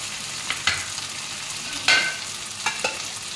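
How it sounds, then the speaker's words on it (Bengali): Garlic and green chilli frying for mutton kosha, a steady hiss broken by a few sharp scraping stirs of the spatula, close and fairly loud, with no talk. "এইবারে রসুনটা আর এই কাঁচা লঙ্কা দিয়ে দিলাম।"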